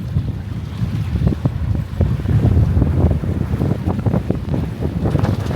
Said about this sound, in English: There's some more gusts coming.